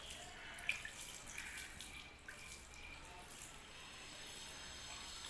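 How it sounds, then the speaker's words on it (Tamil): Water sprinkled by hand over potted portulaca plants on a terrace garden: a faint, soft patter and trickle with a few light drips, quiet and close. "அதில் இப்படி தண்ணி தெளித்து விட்டுருங்க"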